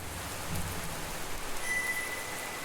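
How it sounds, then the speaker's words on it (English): Heavy rain falls steadily, a soft, even hiss of drops striking surfaces, fairly faint and uninterrupted, with no voices. "The rain is coming down harder now, making vision unclear"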